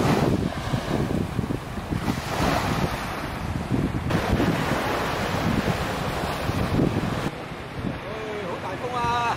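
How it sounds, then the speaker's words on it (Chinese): Strong wind roars across a seaside cliff and buffets the microphone throughout, with surf and waves washing below in a continuous loud rush and a few faint voices underneath. "好大风啊！"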